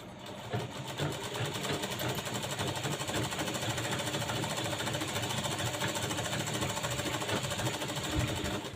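Sewing machine running steadily for the whole stretch, topstitching along the lining of a blouse, a continuous fast mechanical rattle at close range with no talking.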